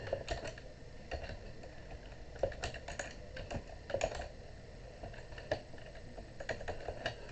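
Steady keyboard typing, a run of light taps with occasional louder keystrokes, close by and alone with no voices.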